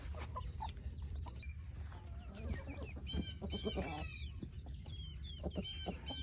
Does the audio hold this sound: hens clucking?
yes